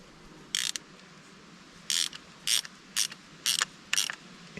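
Six short metallic ratchet bursts in an uneven rhythm as a part on a pitcher pump at a cabin well is snugged down, close and crisp over a quiet outdoor background.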